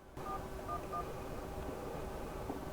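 Phone dialing tones from a NexiGo USB and wireless speakerphone while calling Verizon Wireless 411, a few short beeping tones over a steady hum, fairly close and with no talking.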